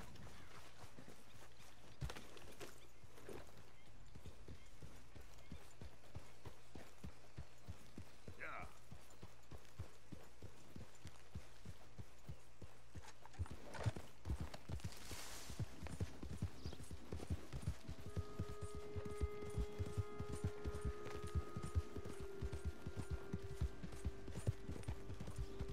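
Horse hooves clip-clop at a walking pace in Red Dead Redemption 2, steady soft thuds that grow busier and louder toward the end, with someone talking over them.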